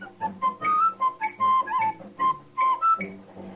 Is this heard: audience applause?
no